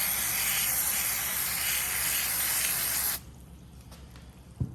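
Lubricant hisses out of a spray can into a Yamaha Kodiak 400 differential in one continuous close spray of about three seconds, then cuts off, followed by a faint clunk.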